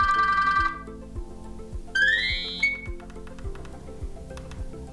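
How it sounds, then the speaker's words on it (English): A bright electronic alarm tone on a Nokia 105 phone plays a short melodic pattern, with soft rhythmic ticking underneath and brief higher chimes. "we have alarm tones, and we have the standard one or ringing tones"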